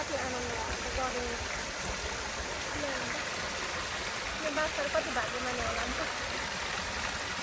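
Clean water flows in a stream through a park pond with fish and a bonsai garden. It makes a steady, soft, continuous rush that swells slightly now and then, heard beneath someone talking throughout.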